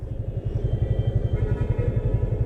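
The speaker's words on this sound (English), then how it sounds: "I'm just gonna quickly park the bike over here." Yamaha FZ25 motorcycle idling as it is parked, a close steady low engine rumble with a regular pulsing throb throughout, no talking.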